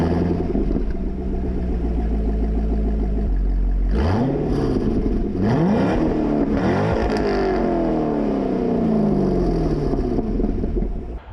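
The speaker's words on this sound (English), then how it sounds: "It does have an air-raid cold air intake, and if we come around to the back, it's got a Corsa Sport axle back exhaust." A C6 Corvette's 6.2-liter V8 with a Corsa Sport axle-back exhaust and cold air intake idles with a deep rumble, then is blipped through several sharp, loud revs that rise and fall, recorded up close with no talk.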